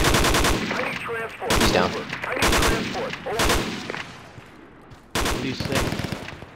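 Rifle gunfire in the tactical shooter game Project Reality, several loud bursts of shots spaced out across the clip with a voice speaking briefly between them.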